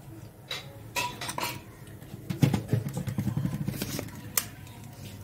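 A metal wok clanks and scrapes against a stove, with several sharp knocks and rattles, close by and without talking.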